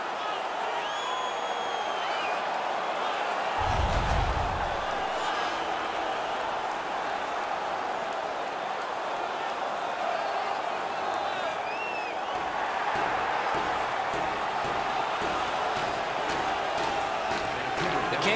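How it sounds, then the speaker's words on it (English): A video game crowd in NHL 19 keeps up a loud, steady roar and cheer after a hockey fight in a preseason game between the Los Angeles Kings and the Vancouver Canucks. The noise stays dense throughout and rises briefly near the start. "The crowd is ecstatic."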